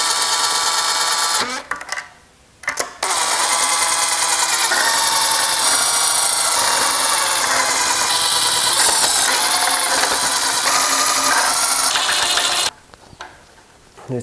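Cylinder head bolts on a 3.0L stroker BMW M52 engine being run down with a ratchet, a steady loud run of rapid mechanical clicking and whirring that continues for about ten seconds, broken by short pauses near the start and end.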